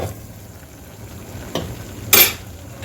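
Spiced masala for Nagpur-style chana poha being stirred and sautéed in a pan, a soft steady sizzle with a couple of brief utensil scrapes against the metal, close and without speech.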